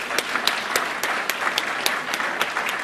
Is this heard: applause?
yes